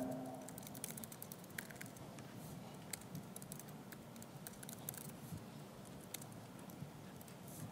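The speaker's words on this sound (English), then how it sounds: "All right, let's start typing," Continuous rapid typing on a computer keyboard, crisp key clicks tumbling in quick irregular bursts over a low steady room hum.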